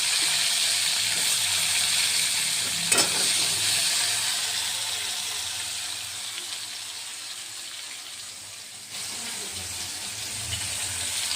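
Sliced onions and potatoes frying in hot oil with black cumin seeds, a steady broad sizzling hiss that runs without pause and shifts slightly in level partway through, with no talking.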